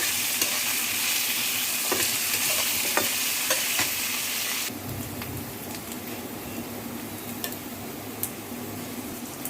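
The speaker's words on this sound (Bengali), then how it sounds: "কাঁচকলা আর আলুটা ভেজে নিচ্ছি" Raw banana and potato chunks with black cumin sizzle loudly in a pan of oil while a spatula stirs and scrapes against the metal. Partway through, the frying drops to a softer, steady hiss, and nobody speaks.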